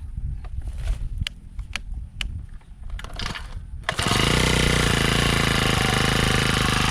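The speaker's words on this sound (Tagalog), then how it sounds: "Malaking bagay na meron tayong grass cutter." A grass cutter starts up partway through after some clanking, then runs loud, close and steady, with no talking.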